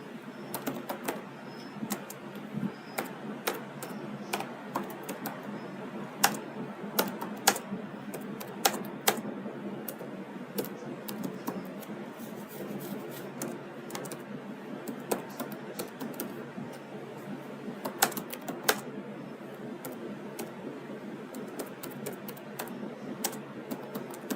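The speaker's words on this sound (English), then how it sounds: "let me type it" Steady typing on a computer keyboard: a rapid, uneven run of close, crisp key clicks over a low room hum, with no talking.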